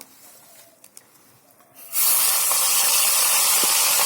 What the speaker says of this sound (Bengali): চিংড়িটা আমি ভেজে নিচ্ছি তেল দিয়ে, নুন হলুদ দিয়ে